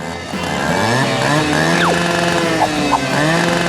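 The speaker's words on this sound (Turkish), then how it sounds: "Şu çikolatayı kesmek için gerçek bir testereye ihtiyacım olacak." A loud, revving saw whines and rises in pitch as it bites into chocolate, its motor surging steadily throughout with no voices.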